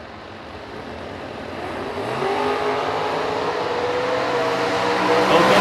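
Drag racing cars, a Firebird and a Corvette Roadster, launching down the strip: a rising engine roar that swells and grows louder as the cars accelerate, heard alone without talk.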